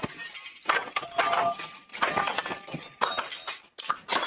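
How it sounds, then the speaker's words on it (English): Glass is smashed and shattered in repeated loud bursts during a sheriff's department police entry, with crunching, clinking fragments between the strikes. "To break the glass."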